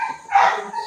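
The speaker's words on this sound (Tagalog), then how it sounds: "ang ingay ng aso nagalit sa akin" A dog barks once, close and fairly loud, a short rough yelp that rises and fades within a second, with no other voices.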